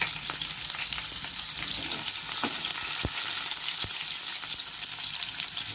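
Cumin, chopped onion and green chilies frying in hot oil in a kadai, a steady close sizzle with occasional stirring clicks and spatter pops throughout.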